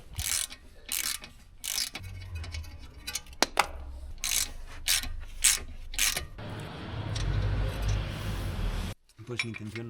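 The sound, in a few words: removing ball joint bolts from Mini Cooper knuckle with ratchet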